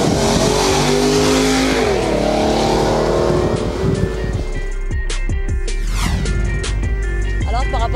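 An Infiniti Vettel concept car accelerating hard on a circuit in sport mode, its engine note rising loudly and continuously with rapid shifts, close and dominant over the whole stretch with some talk underneath.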